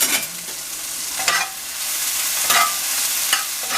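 Onions and other vegetables cook in a pan for rock cod fish fajitas, sizzling steadily and fairly loud while a utensil stirs and scrapes at intervals, with no voices.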